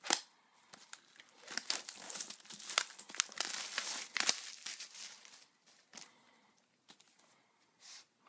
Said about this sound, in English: Let's rip it on through.